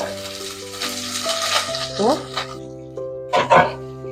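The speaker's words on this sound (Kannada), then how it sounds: "ಈಗ ಇದನ್ನು ಸ್ವಲ್ಪ ಆಗಿ ಫ್ರೈ ಮಾಡ್ಕೊಳ್ಳೋಣ" Garlic and green chilies frying in a pan of hot oil for beans palya, a crackling sizzle with stirring clatters, heard under a person talking.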